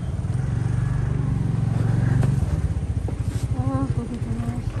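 New motorcycle on an evening ride, a close, pulsing engine drone with rhythmic low thrumming and some clatter, steady throughout with a brief faint whine.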